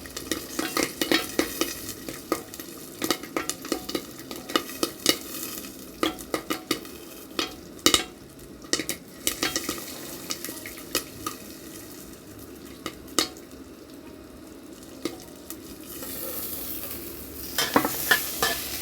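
Sharp, irregular popping clicks burst from a covered pot of popcorn made from feed corn, scattered and frequent over a soft background sizzle, close by.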